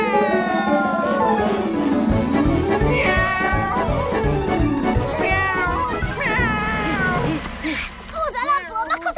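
A voice meows in a long series of rising and falling cat-like calls, imitating a cat, with some background chatter.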